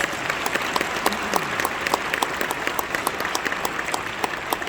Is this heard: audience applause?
yes